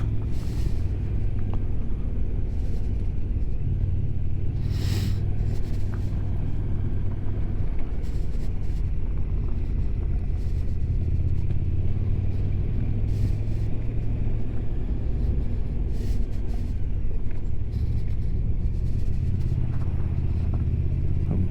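Big V-twin motorcycle riding over loose gravel on an off-road track near Fort William, a steady low engine rumble with wind buffeting and constant crunching road noise throughout.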